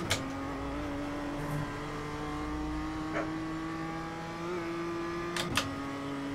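A steady engine drone holds a rising then level pitch, with brief gear-shift dips and a tyre squeal near the end, from a racing car in a sim racing game played on a direct drive wheel.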